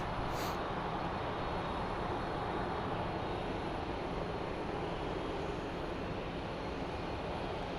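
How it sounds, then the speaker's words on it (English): A FedEx MD-11 jet at an airport produces a steady, broad roar of engine noise, moderately distant and unbroken, with no voices. "looks like our FedEx MD-11 is next"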